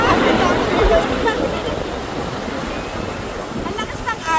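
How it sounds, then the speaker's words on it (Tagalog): Loud rushing surf of strong ocean waves churns steadily close by at General Nakar, Quezon, with voices chattering underneath the roar of the water. "Ang lakas ng alon."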